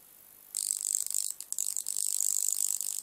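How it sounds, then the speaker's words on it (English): Ignition transformer mounted in a project box, switched on and buzzing with a sharp, high, crackly hum that starts abruptly and continues with small interruptions, loud and close. "Already you can hear that lovely particular buzz"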